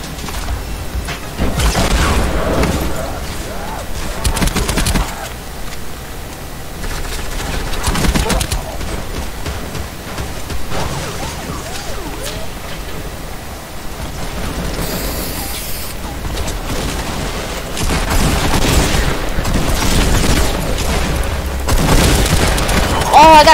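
Bursts of gunfire and booming impacts in a shooting video game, loud and repeated over a rumbling battle background, with a person talking over them.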